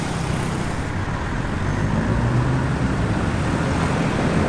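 Continuous dense traffic rumble at city traffic lights in Hat Yai, Thailand, with engines idling and passing vehicles forming a steady, loud low roar throughout.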